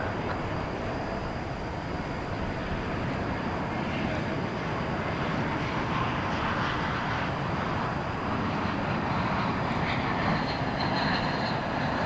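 A UPS heavy cargo jet departs at night from DFW Airport, its engine roar a steady, broad rumble filling the whole clip at constant loudness, fairly close.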